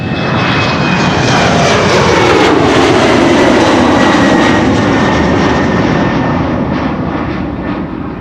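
A jet airliner departs Amsterdam Schiphol from Polderbaan runway 36L on a windy day, its engines a loud, sustained roar that swells as it passes nearby, with a falling pitch as it climbs away.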